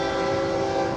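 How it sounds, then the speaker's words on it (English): A Florida East Coast unit freight train passes with its horn sounding, a loud sustained tonal blast over the rumble of the rail cars, close by and with no talking. "Unit train, FEC"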